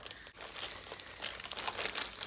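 A plastic package holding a pillow cover crinkles and rustles continuously and fairly close as it is handled and pulled open, with no talking.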